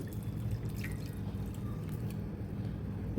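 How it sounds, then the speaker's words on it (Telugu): Jaggery water drips and trickles into a bowl as it is strained through a filter while making a sweet Sri Rama Navami offering, faint and sparse over a low steady background hum. "ఇప్పుడు మరొక బౌల్ తీసుకొని ఈ బెల్లం నీళ్ళను ఫిల్టర్ చేసుకోవాలి"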